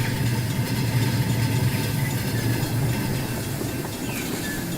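Diesel locomotives, SD40s, run in the Rolling Line train game, a steady low engine drone with a rumbling hum that holds at an even level throughout.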